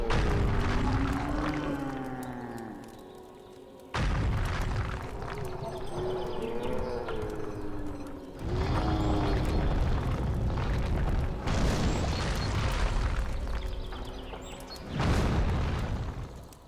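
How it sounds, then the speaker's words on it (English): Explosion attacks burst in a Dark Souls 2 fight: four loud booming blasts land a few seconds apart, each hitting abruptly over a backdrop of tonal, ringing game sound. "Okay, explosion."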